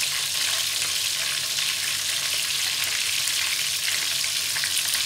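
Fried chicken, Jollibee style, frying in hot oil gives a steady, loud, dense sizzle that stays even throughout, with no talking.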